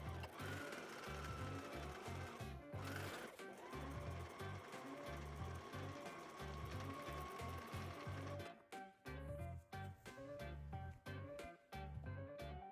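Sewing machine running a straight stitch with a straight stitch foot along a towel edge, about a quarter inch in: a steady, loud rhythmic needle chatter that runs continuously, then breaks into shorter stop-start bursts near the end.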